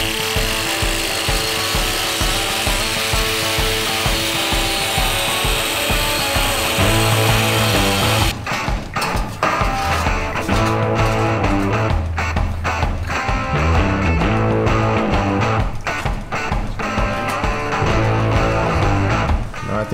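Angle grinder cutting steel plate for a heavy-duty off-road bumper on a Toyota, a continuous loud, harsh whine with shifting pitch running throughout, alone without talk.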